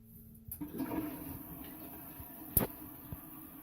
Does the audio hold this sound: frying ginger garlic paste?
no